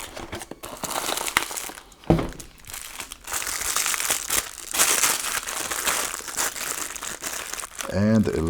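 Paper crinkles and rustles up close as a paper bag is pulled from a cardboard breakfast ration box, with sharp crumpling bursts and a brief voice at the end.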